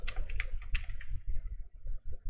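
Fingers typing code on a computer keyboard, a quick close run of light clicking keystrokes in an uneven rhythm.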